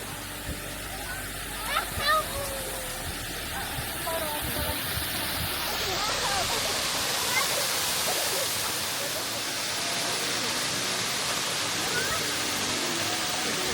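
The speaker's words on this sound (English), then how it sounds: "I can hear the first waterfall, which is Waterfall Falls" Waterfall Falls in Mt. Field National Park, Tasmania, heard as a broad, steady rushing roar of falling water that swells louder and fuller partway through as the falls draw nearer, with a few faint birdcalls early on.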